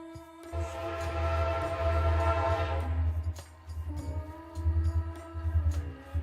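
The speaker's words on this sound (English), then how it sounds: "there's a train on the way, so it's about to get loud" A train of engines only rumbles past with a deep, steady roar and long horn-like tones, loud throughout, swelling and easing as it moves by.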